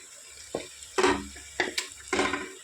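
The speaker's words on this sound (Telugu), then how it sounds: "చికెన్ అంతా వేసుకున్న తర్వాత ఇట్లా కలిపేసుకోండి మొత్తము మంచిగా ఫ్రై అయ్యేటట్టుగా కలిపేసేయండి" Soaked chicken fries in a pan for biryani and is stirred, making four or five close bursts of sizzling and scraping with quiet pauses between them.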